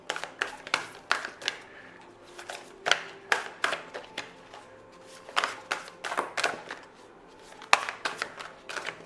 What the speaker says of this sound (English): Don't mind my shuffling